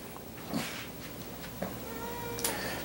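A cat meows a few times, faint and somewhat distant, separated by quiet gaps over low background noise.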